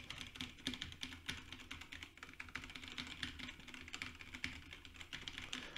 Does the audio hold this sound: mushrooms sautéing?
no